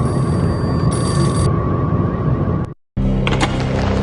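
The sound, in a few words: payphone ringing in Max Payne Mobile video game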